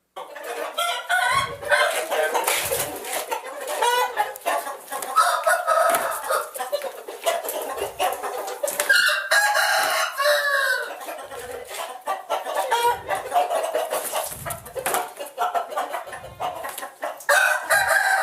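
Roosters crow and cluck repeatedly from a played recording of game fowl that kept their natural aggressiveness; the calls are loud, dense and continuous, with crows rising over busy clucking and no talk.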